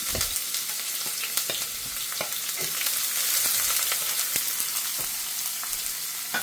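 Shallots, chilli, ginger and garlic sauté in hot coconut oil, giving a steady close sizzle. Sharp clicks and scrapes from stirring break through it at irregular intervals.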